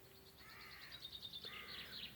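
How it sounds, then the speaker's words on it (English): Birds call outdoors in a steady series of chirps and caws, moderately loud over a constant background hum, with no talk. "Not sure if you guys can hear the birds."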